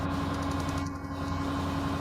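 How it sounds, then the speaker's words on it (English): A Scania 144 530 truck with a 14-litre DSC14 V8 diesel runs on a dyno with a steady, dense engine drone and a faint high whine, loud and continuous with no break. "So I'd say you can also hear the sound of the engine."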